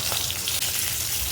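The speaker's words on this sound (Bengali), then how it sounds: "এই তো মাছটা ভেজে নিচ্ছি" Pieces of rui fish fry in hot oil in a pan, a steady, close sizzle and crackle with no pause.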